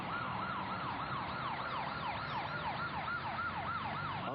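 Emergency vehicle sirens wail steadily as fire and ambulance units arrive at a van fire on a freeway, with overlapping sweeping tones heard at moderate distance against road noise.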